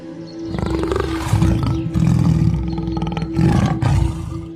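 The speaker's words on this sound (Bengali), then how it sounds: "বাঘগুলো পালাতে না পেরে গর্জন করতে থাকে।" Two cartoon tigers roar loudly and repeatedly in several long, growling bursts, close and alone without talk.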